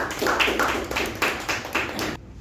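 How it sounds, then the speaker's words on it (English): Applause at a Toastmasters club meeting, a short run of rhythmic clapping bursts at moderate loudness that cuts off abruptly. "Let's give Ujwal a nice round of applause"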